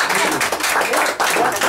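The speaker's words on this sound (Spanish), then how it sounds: "¡Aplausos!" Applause at a home birthday celebration, dense clapping that keeps going, with voices mixed in underneath.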